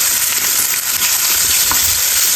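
Colorful vegetables and egg fry in a pan, a loud, close, continuous sizzle with occasional soft stirring scrapes, steady throughout and free of talk.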